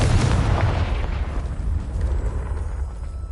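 A Confringo explosive spell blast in Hogwarts Legacy lands as a loud, booming detonation at the start, then a rough rumbling tail that slowly fades over a few seconds.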